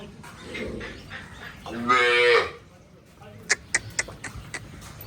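A Kankrej cow on a farm in Banaskantha gives one loud, close, drawn-out moo partway through. Quieter voices and low farm background come before it, and a series of short sharp knocks or clicks follows.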